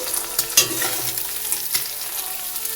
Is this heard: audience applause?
no